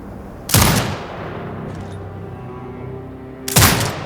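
Two heavy turret shots in the video game Sniper Ghost Warrior Contracts 2, each a loud sharp blast with a rumbling tail, three seconds apart over a low steady game ambience.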